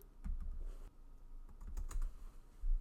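Someone types on a computer keyboard, entering short text into a design program. Quiet, close key clicks come in uneven bursts with brief pauses between them.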